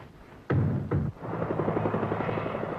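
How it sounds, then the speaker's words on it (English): A helicopter flies over Buckingham Palace on a summer morning, its rotor beating in a fast steady thud under a continuous engine drone, fairly loud and close, after two heavy opening thumps. "A helicopter over Buckingham Palace on a summer morning."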